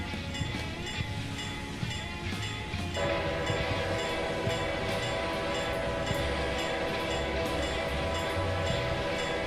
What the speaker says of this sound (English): We're waiting for another train coming up here.